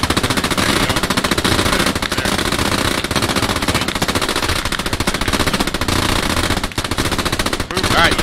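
Rapid machine-gun fire in the World War II shooter Post Scriptum, a dense, loud, continuous stream of bursts broken by short pauses, with more shots layered in the background.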